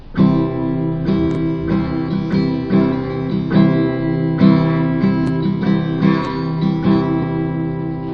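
An acoustic guitar strums the same bright chord repeatedly, each strum ringing out clearly in a steady, unhurried rhythm with no talking.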